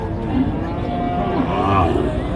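Cattle lowing at Satmile cattle market in Jessore, Bangladesh, a busy livestock haat with cows for sale; a loud, sustained moo dominates against steady crowd noise.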